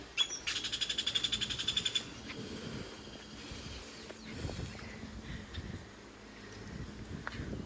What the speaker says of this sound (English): What bird was making that noise?